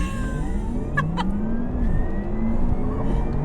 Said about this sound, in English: This car has that electric sport sound on, so maybe you'll be able to hear something.